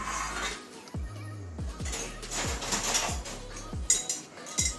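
A metal lid comes off a cooking pot of boiled jackfruit seeds, giving a run of sharp clinks and knocks against the rim over low kitchen noise.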